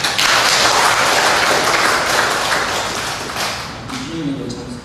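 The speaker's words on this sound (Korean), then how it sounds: "박수 한번 부탁드리겠습니다." A church congregation at a Sunday worship service breaks into warm applause that starts full and gradually thins and fades, with a voice beginning to speak as it dies away.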